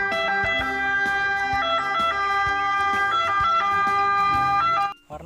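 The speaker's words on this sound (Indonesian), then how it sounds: "ada mobil ambulan kawan-kawan." A toy ambulance plays an electronic siren: a bright, tinny, looping wail over a fast repeating tick, loud and close, stopping abruptly at the end.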